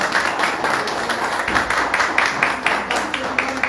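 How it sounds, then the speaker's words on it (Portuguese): A church congregation claps in a steady rhythm as its members sit down during a worship service. The applause is close and lively, with a voice over it. "Pode sentar aplaudindo o Senhor Jesus"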